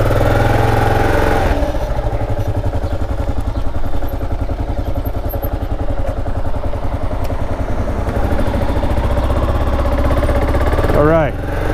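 Kawasaki KLR motorcycle engine running steadily while riding, a loud continuous mid-pitched drone with clattering pulses, close and constant throughout.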